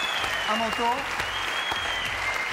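Studio audience applause on a French television show, steady clapping filling the background while someone speaks briefly over it.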